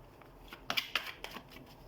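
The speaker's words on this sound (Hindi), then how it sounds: "तो सबसे पहले हम कार्ड शफल कर लेते हैं।" Tarot cards are shuffled briefly and quietly, a few soft riffling flicks and slaps bunched together in a near, short burst.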